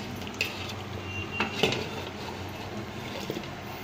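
Beef pieces lifted from a pot with a rice ladle, light metal scrapes and clinks against the pot over a soft wet background, a few distinct knocks with no talk.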